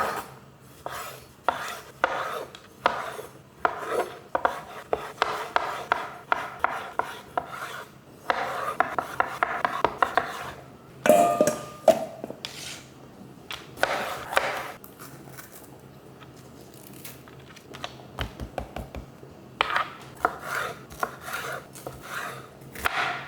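Vegetables being chopped on a board for a meal in a hot home kitchen, a rapid run of sharp knife strikes in bursts with short pauses and a few clinks of utensils.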